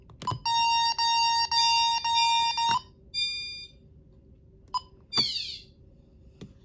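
A fire panic alarm sounds from an alarm monitoring panel: four loud, steady electronic beeps in a row, then shorter quieter tones and a couple of clicks as it is silenced.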